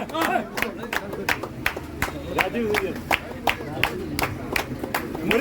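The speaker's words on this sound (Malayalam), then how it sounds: "നല്ലൊരു കൈയടി" Scattered clapping from an audience at a prize-draw event, with sharp separate claps in an uneven rhythm. Voices and chatter continue underneath the claps.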